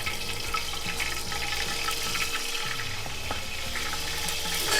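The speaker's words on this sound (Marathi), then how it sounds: "याच्यामध्ये मला 3 केजीच्या हिशोबानं आम्ही आलं लसूणची पेस्ट टाकते" Ginger garlic paste drops into a hot pot of oil for chicken curry, giving a steady, close sizzling and frying hiss that runs through the whole stretch without talk.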